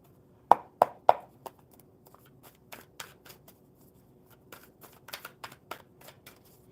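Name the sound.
shuffling cards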